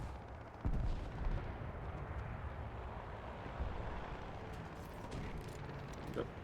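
Rockets fire in a naval combat video game, The Tigris, as a heavy boom hits near the start, followed by a sustained loud rumbling roar with scattered distant blasts throughout.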